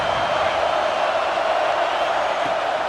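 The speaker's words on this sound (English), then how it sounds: "Listen to this crowd just shaking the girders of this place, trying to help their defense." In the EA Sports College Football 26 video game, a stadium crowd cheers during a defensive stand, a dense, constant roar that stays loud and unbroken throughout.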